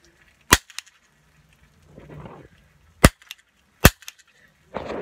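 A toy cap gun fired outdoors at night gives three sharp, loud cracks spaced a second or more apart, with faint rustling between shots.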